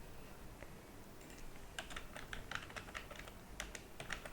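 Computer keyboard typing while copying code from an earlier switch/case example into a programming editor, a quick run of crisp key clicks in two short bursts, close and clear over a low steady background hum.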